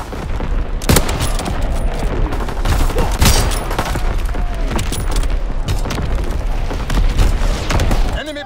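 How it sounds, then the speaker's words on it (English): Continuous enemy artillery bombardment in a war video game, dense rolling booms and crackling gunfire blasts piling up loudly without pause, with voices shouting underneath. "Incoming enemy artillery!"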